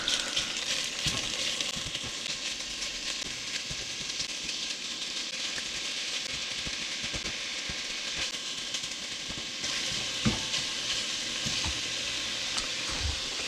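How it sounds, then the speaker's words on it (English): Italian sausage sizzling and being broken apart in a frying pan, a steady loud crackling fry running throughout with occasional sharper scrapes and taps of a utensil, close and continuous. "Okay, I'm going to start breaking up the sausage."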